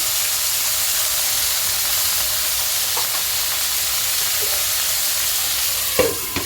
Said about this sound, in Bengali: এটাকে আমি ভালো করে ভাজা করে নিচ্ছি